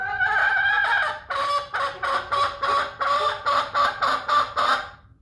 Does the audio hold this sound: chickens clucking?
yes